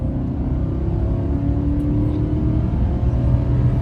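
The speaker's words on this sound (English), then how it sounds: "let's go roaring on down here. Yeah, baby. This little Titan engine." A small Titan engine revs steadily as the vehicle accelerates down an open highway, a continuous close low rumble and drone with no talk over it.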